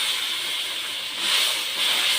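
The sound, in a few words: water added to frying spice paste, sizzling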